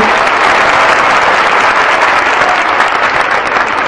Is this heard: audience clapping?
yes